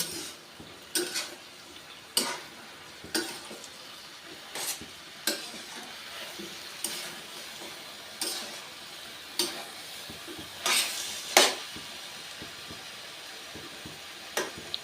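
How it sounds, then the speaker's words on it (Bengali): A spatula stirs spinach ghonto with green chilli and lentil dumplings in a pan, giving a run of sharp scraping knocks at a loose, irregular rhythm over a soft sizzle. "এবার আমি কাঁচা লঙ্কা কুচি আর ডালের বড়িটা দিয়ে দিলাম দিয়ে আমি আবার ভালো করে নেড়ে চেড়ে নেব"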